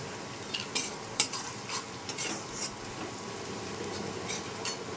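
Onion and green chili fry in a pan with turmeric, a soft steady sizzle broken by scraping stirs of a spatula and a few clinks against the metal, close and fairly quiet with no talk.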